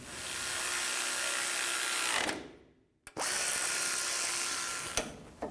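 A power tool spins nuts back onto a rear brake bracket on a Ford E-250 van in two bursts: a long whirring run that winds down, a short silence, then a second run ending with a sharp click.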